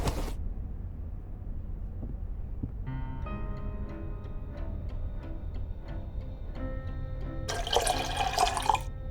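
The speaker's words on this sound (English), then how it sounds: "I'll pour out the developer." Photo developer drains out of a darkroom tray in a horror adventure game. Faint, steady drips tick along for several seconds before a short, louder splash of pouring liquid near the end.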